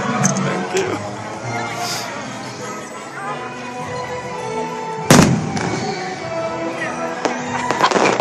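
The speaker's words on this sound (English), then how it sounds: "watch the fireworks" Fireworks exploding over Disney's Fantasyland, heard as a continuous wash of crackling bursts with one sharp, loud bang midway and several smaller pops near the end, mixed with crowd noise and music in the background.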